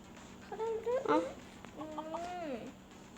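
A cartoonish chicken in a video game clucks in two short bursts of warbling calls, moderately loud against a quiet background hum.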